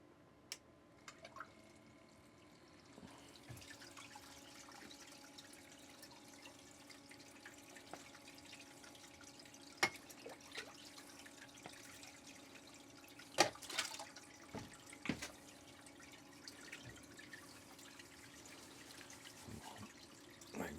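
Water running through a gold sluice box, a faint, steady trickle and dribble outdoors with scattered drips and a few louder splashes and knocks, no voices.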